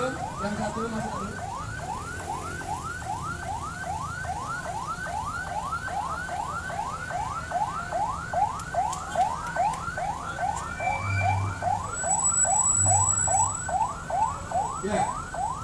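An ambulance siren wails at a street demonstration in Jakarta, a steady rapid rising-falling cycle repeating throughout, close and loud over crowd noise.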